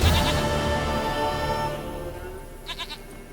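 A goat bleats in The Witcher 3 video game, one long wavering cry that fades out, followed by a few short, quieter bleats, with no talking over it.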